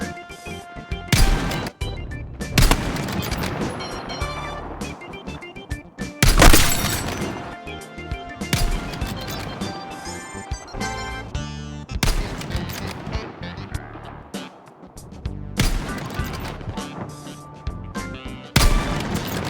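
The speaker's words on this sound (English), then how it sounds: "I just meant to shoot the window out." Sniper fire from an M2010 ESR rifle in a shooter video game, with loud sharp shots breaking out a window amid a dense, busy game soundscape of repeated cracks, crashes and clutter.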